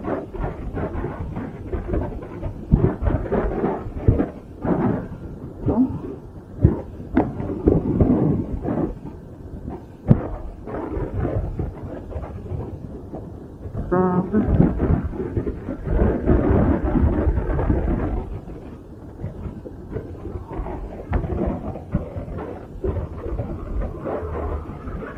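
Heavy rain with rumbling thunder during a Honda Click 125i motorcycle ride from Bukidnon to Davao City, a steady loud roar of downpour and wind with deep booming swells throughout.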